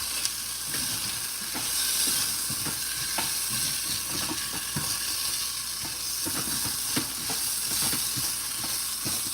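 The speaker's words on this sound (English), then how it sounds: "Just fry the rice a little bit." Rice sizzles and fries steadily in a hot pan, with a continuous crackling hiss broken by the scrape of a spatula stirring it, close and fairly loud with no talking.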